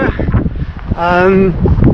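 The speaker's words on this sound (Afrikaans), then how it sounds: "Vandaag waai wind zo." Wind blows across the microphone outdoors on a windy day at the coast, a loud, continuous rumbling buffet, with a voice speaking over it and a brief drawn-out vocal sound midway.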